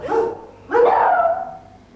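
A dog barks at a badly run-down kennel with a leaking roof, giving two close, loud barks about half a second apart with a whiny edge.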